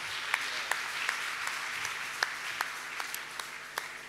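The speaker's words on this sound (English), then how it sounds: "I think we need to give the Lord a big round of applause" Light, scattered clapping at a church sunrise service, a thin patter with distinct individual claps standing out, fairly distant and subdued.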